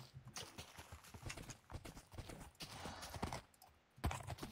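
Horse hooves clip-clop steadily in a horse-breeding video game, a quick rhythmic patter that carries on throughout with no talk over it.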